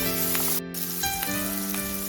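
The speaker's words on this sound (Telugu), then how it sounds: "కరివేపాకు కొంచెం ఫ్రై అయిన తర్వాత టమాటా ఒకటి వేసుకోవాలి సన్నగా తరిగి" Finely chopped tomato dropped into hot oil with frying curry leaves and turmeric for an Andhra-style cauliflower egg curry, giving a loud, steady sizzle that carries on alone throughout.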